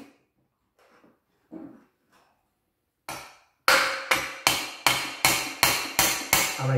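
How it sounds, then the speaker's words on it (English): A hammer taps the sensor plate of a Mercedes KE-Jetronic fuel injection system from underneath, sounding as a run of sharp, evenly spaced metallic knocks after a few faint shuffling noises. "the more you tap or you hammer this part with a hammer from underneath"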